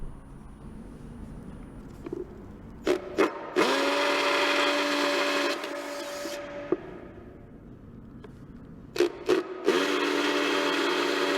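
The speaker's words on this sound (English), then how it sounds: "the end ridge tile is marked, drilled and screwed into place" An end ridge tile on a dry hip roof being drilled and screwed in, two sustained power-tool whirs with short trigger blips before each, close and loud, separated by quieter gaps.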